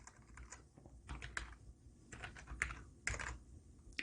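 Typing on a computer keyboard at a desk, entering a search query: irregular clusters of light key clicks with short pauses between bursts, close and fairly soft, with no talking.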